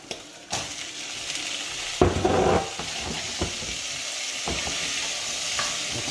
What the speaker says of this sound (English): And I'm going to add my chickpeas now.